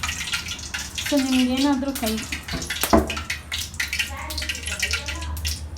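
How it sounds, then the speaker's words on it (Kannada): Hot cooking oil crackles and spits where water drops have fallen into it, sharp irregular pops scattered throughout while someone talks over them. "ಈಗ ಎಣ್ಣೆ ಕಾಯ್ತಿದೆ, ಅದು ನೀರು ಬಿದ್ದಿರೋದನ್ನ ಚಟಪಟ ಅಂತಿದೆ."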